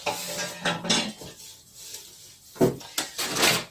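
Stainless steel pots, pans and tongs clink and clatter in a kitchen, a few sharp metallic knocks at the start and again near the end, with quiet handling between and no voices.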